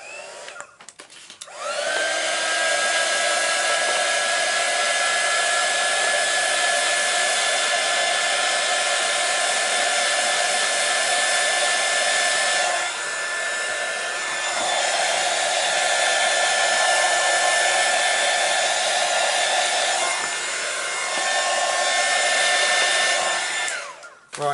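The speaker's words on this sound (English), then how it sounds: "I'm going to get my heat tool out" A heat tool blows steadily and loudly to dry a colouring book page, a continuous whirring hiss lasting over twenty seconds with two brief dips in airflow midway.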